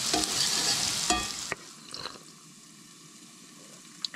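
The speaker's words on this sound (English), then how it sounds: "Now I'm going to throw in my onion." Chopped onion tossed into a hot pan at a campsite, a loud burst of sizzling and stirring that drops to a quieter steady fry with a few small clinks.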